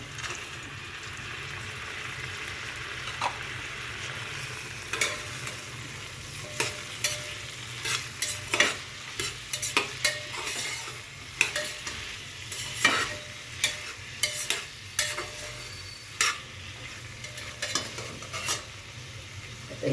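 Sprouts and tomato stir-fried in a pan for sprouts rice, with a steady sizzle under repeated sharp scraping and clacking strokes of a spoon against the pan, growing busier toward the end.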